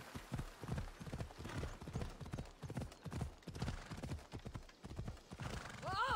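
Rhythmic horse hooves clop steadily at a trot in Assassin's Creed Odyssey, with a whinny breaking out at the end.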